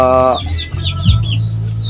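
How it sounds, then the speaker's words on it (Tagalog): Gamecock chickens in a backyard cluck and chatter close by in quick, wavering bursts over a low steady background hum. "Ito lang yung ating mga babang manok"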